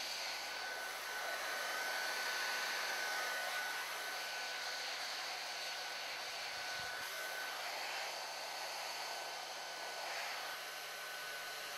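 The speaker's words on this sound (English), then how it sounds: "Continue heating along the molded part at the cable end." A hot-air heating tool blows steadily and close by, warming a TE molded part at a cable end during installation with S1125 adhesive; a continuous broadband roar with a faint whine holds for the whole stretch, with no voices.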